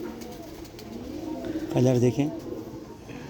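A pigeon gives a short, low coo close by, a brief throaty burst in the middle, while someone speaks over it in a quiet room.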